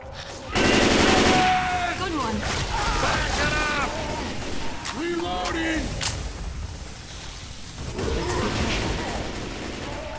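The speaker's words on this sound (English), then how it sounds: "Why are you shooting me?" Gunfire in Left 4 Dead 2, with bursts of shots and game effects under talking voices, loud and close through most of the stretch.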